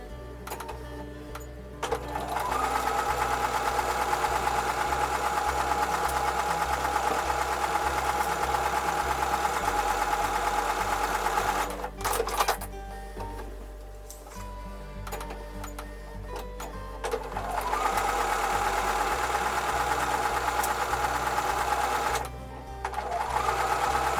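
A sewing machine runs loud and close while sewing a quilt block seam, a steady rapid mechanical drone in long runs broken by two short stops.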